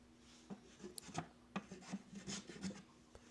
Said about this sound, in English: I'm planing it down at an angle